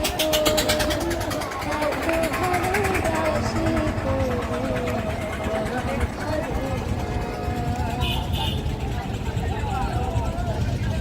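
A boat engine hums low and steady on a haor wetland near Nikli, Kishoreganj, running continuously beneath voices talking close by.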